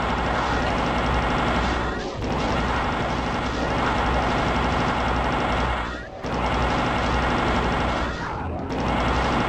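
Rapid plasma rifle fire in DOOM's Plutonia Experiment, sewer level, a dense continuous barrage of energy shots with brief pauses, loud and close, with enemy noise mixed in and no talking.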